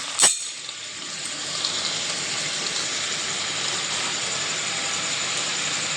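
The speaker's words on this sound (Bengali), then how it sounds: "3 চামচ জল দিয়ে দিলাম।" Sugar and water heating in a pan over a medium gas flame for caramel, a steady broadband hiss of simmering with a brief sharp click near the start, no talk.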